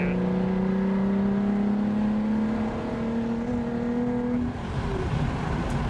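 A Lotus Evora's engine pulls under throttle, a steady rising drone that holds for several seconds and then eases slightly, heard from inside the car with road noise and no talk.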